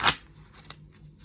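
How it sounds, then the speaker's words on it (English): A quick riffle of a tarot card deck being shuffled, one sharp burst of card flutter followed by a couple of faint softer card taps, close and alone. "give it a quick shuffle"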